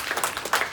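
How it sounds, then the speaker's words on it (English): A live audience claps in a brief round of applause after a sociodrama scene, dense overlapping hand claps with a few louder bursts toward the end, moderately close and not very loud. "give yourselves a round of applause"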